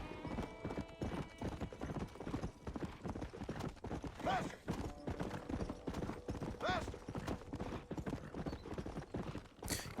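Horse hooves clip-clop in a steady rapid rhythm throughout a Red Dead Redemption ride, close and continuous, with brief whinny-like tones and game music underneath.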